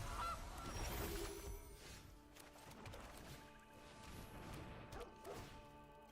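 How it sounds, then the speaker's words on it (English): Cartoonish goose honks sound in the MTG Arena card game, several loud honks in a row over a busy layer of game effects and clatter. "Goose! The goose is loose!"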